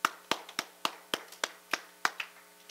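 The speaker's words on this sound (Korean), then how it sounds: "우리 이 시간에 한번 우리 어머님들을 위해서 박수 한번 치겠습니다" A church congregation claps for mothers during a sermon, the claps falling in slow, evenly spaced sharp strikes, about ten over a few seconds, clear and fairly close with no talking.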